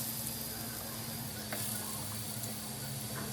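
A steady, moderate sizzle of bottle gourd (doodhi) vadis frying on a hot griddle over medium flame, continuous hiss throughout with a faint low hum underneath.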